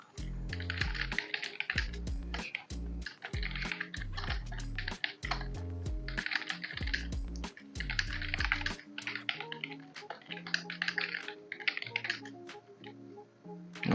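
Someone typing an essay on a computer keyboard, with rapid clustered keystrokes in uneven bursts and a pause near the end. A soft musical tone runs underneath.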